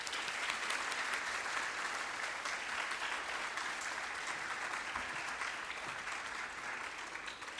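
Audience applause welcomes a lecturer to a talk on Sophocles' Philoctetes at St. John's: a steady, dense wash of clapping from a sizable crowd that continues evenly throughout without any talk.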